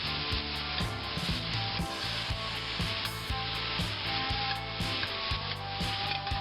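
Chopped leek fries in a pan, making a continuous close sizzle with soft rhythmic scraping and stirring strokes, and no voices.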